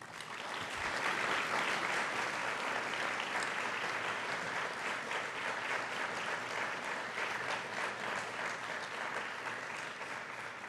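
An audience at the URI Honors Colloquium gives sustained, even applause to welcome Winona LaDuke. The clapping is dense and steady and continues without pause for about ten seconds.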